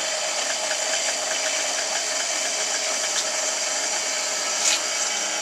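A Victorio food strainer processes cooked tomatoes for canning as soup, giving a steady, loud mechanical whirring grind with faint rattles and a brief knock near the end.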